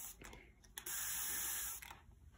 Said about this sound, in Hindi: तो पूरा स्प्रे हो गया इसको।